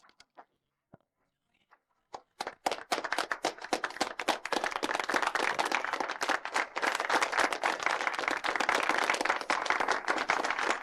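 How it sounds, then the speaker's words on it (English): Wedding guests in a hall welcome the groom with applause: after a few scattered soft taps and a near-silent pause, clapping starts and swells into a brisk, continuous round from a small gathering. "now please welcome the groom with applause"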